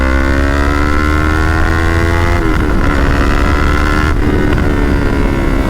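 A Yamaha R3 motorcycle with stage 1 performance mods revs hard and loud, a steady high-pitched engine drone whose pitch dips and shifts twice as the throttle changes, with no talking.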